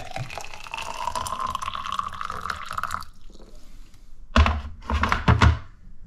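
Hot water pours steadily into a container for a few seconds, then stops, followed by a couple of soft thunks and handling noises.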